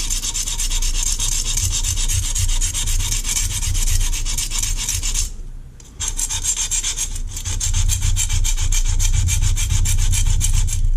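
A kitchen knife edge is ground against a sharpening stone outdoors in a backyard, giving steady rasping strokes that run for several seconds, break off briefly, then resume close and loud without any talk.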